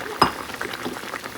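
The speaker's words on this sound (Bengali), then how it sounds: "এখানে বেগুনের সবজি হচ্ছে, বেগুন দিয়ে আলু দিয়ে বড়ি দিয়ে সজনের ডাঁটা দিয়ে সবজি" A curry of eggplant, potato, fried lentil dumplings and drumsticks cooks in a pan. A single sharp utensil clink is followed by a faint, soft simmering bubble close by.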